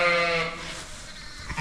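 A ewe bleats once, loud and close, a wavering drawn-out call that fades into outdoor background noise.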